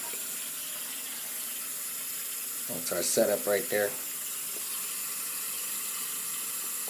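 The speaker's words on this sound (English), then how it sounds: "Fill that up with a few inches of water." Warm tap water runs steadily into a sink in a continuous close gush lasting the whole stretch, with someone briefly talking over it midway.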